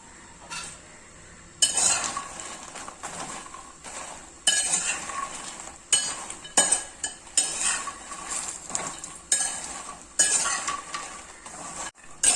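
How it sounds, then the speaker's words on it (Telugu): Phool makhana (lotus seeds) fry in a little oil in a pan, with repeated bursts of scraping, stirring and clinking from a utensil against the metal over a low background sizzle. "ఇప్పుడు ఇట్లా పూల్ మఖానా ఫ్రై చేసుకుందామండి."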